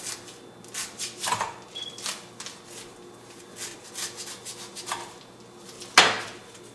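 Knife cutting into a Thai young coconut, a series of close, quiet scraping and chopping strokes with a sharper crack near the end.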